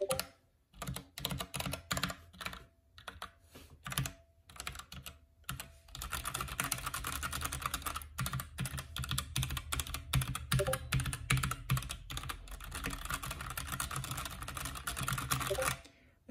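Typing on a Smart Ducky XS-84 mechanical keyboard with brown switches: rapid, close clattering keystrokes in bursts with brief pauses, then a dense continuous run of clicks.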